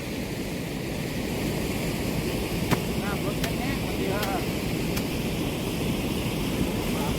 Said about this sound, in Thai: น้ำไหลแรงครับ คลองนี้ก็ มาจากนู่นนะครับ